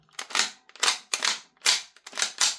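Novritsch SSQ4 HPA airsoft rifle dry-firing on an empty magazine, five sharp snapping shots with a short air hiss after each one, at a steady pace about half a second apart, close and isolated.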